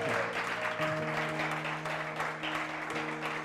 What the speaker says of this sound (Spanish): Dele un aplauso al Señor, hermano.